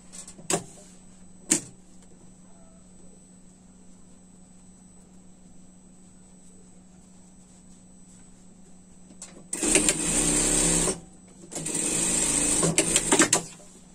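A sewing machine stitches a seam on a winter pet dress in two loud bursts near the end, separated by a short pause, after a long quiet stretch with a couple of faint clicks.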